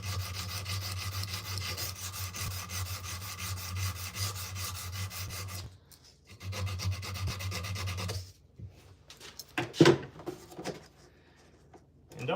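Wood being sanded by hand with sandpaper, a steady close scraping rub that runs for several seconds, stops briefly, resumes, then breaks into a few short scattered strokes and knocks.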